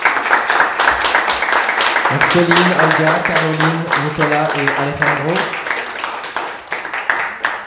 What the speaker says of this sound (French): on peut encore donner une immense main d'applaudissements aux éditions Urubu